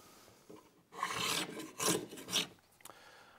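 Rhythmic rasping strokes of sandpaper on wood, several back-and-forth passes in quick succession, close and fairly loud with short pauses.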